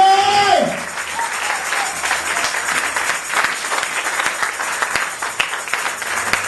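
A church congregation applauds the Lord with sustained, dense clapping that rises and falls in waves, briefly preceded by a sung or sustained tone, loud and close throughout.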